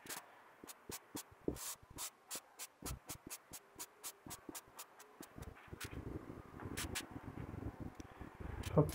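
An airbrush sprays paint onto fabric in a rapid series of short, hissing bursts that build into a denser, louder spray toward the end. The sound is close and quiet, with no voices.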